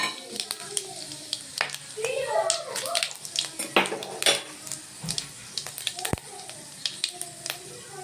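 Whole spices, cinnamon and cloves, sizzle and crackle in hot oil in a pan, with scattered clinks and scrapes of a utensil and a voice speaking over it.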